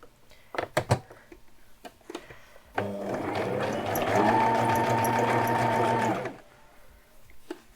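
A sewing machine stitches bias binding in one steady burst of about three seconds, a loud, close whirring hum, with a few clicks and handling knocks before it starts.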